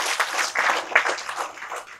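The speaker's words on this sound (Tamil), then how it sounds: "கொஞ்சம் கைத்தட்டலாம்" Audience applause at a Tamil public talk: a steady wash of clapping from a crowd, fairly close and continuous for a couple of seconds, with a few sharper individual claps standing out.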